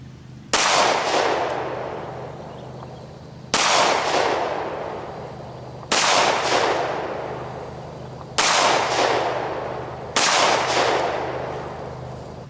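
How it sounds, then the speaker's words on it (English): Glock 19 pistol firing Winchester 9mm FMJ rounds at a range, five loud sharp shots spaced about two to three seconds apart, each with a decaying echo and no talk. "Let's see what the Glock 19 will do with Winchester."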